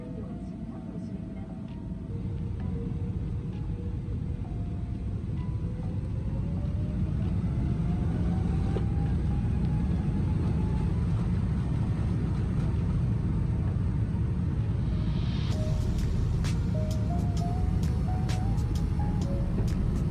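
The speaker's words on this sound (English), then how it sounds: "After a short taxi, we lined up on runway 34 right and were cleared for takeoff." An ANA airliner takes off from runway 34 right in Tokyo, heard from inside the cabin as a steadily building engine roar with a rising whine and heavy rumble.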